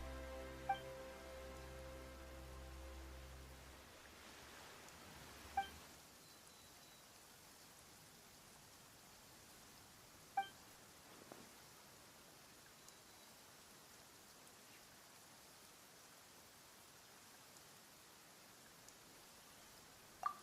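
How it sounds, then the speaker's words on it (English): Steady soft rain in the video game Genshin Impact patters continuously, faint and even, after a low droning tone fades out, with an occasional light tap. "Why is it raining all of a sudden?"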